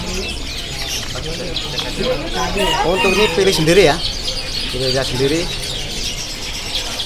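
Canaries at a bird market kiosk give bright chirps and warbling calls, with a nearby voice speaking over the birdsong.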